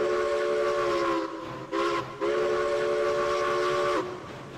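In the Railroads Online video game, a steam train working uphill sounds a sustained multi-tone whistle that breaks briefly twice, over a steady rumbling rail background, with no talk.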